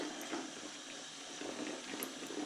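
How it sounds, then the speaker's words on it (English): Tap water runs steadily into a kitchen sink during dishwashing, a soft continuous hiss and splash at low level with no voices. "Hearing the sounds of the water."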